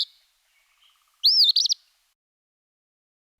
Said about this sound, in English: This is Eastern Phoebe.